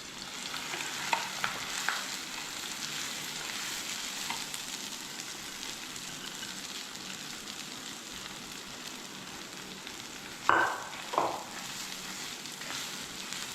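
Rice fries and sizzles in coconut oil with cut chillies and cumin for coconut rice, a soft continuous crackle with occasional scraping stir sounds and a couple of louder clanks near the end.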